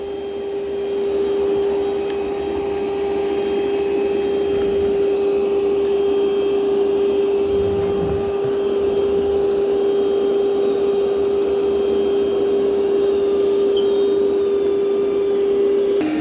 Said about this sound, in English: It's vacuuming and mopping.